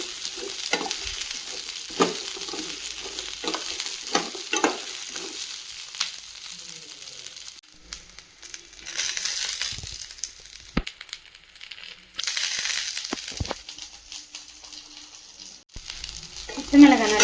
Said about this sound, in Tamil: பச்சை மிளகாயை நல்லா மிக்ஸ் பண்ணி நல்லா வதங்கட்டும்.